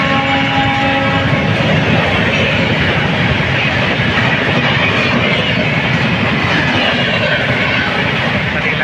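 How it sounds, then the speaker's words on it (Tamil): A train rolls past close by near Manavur railway station, a loud continuous rumble and clatter of wagons with a horn tone at the start. "இப்போ பாருங்கள், ட்ரெயின் போது பாருங்கள்."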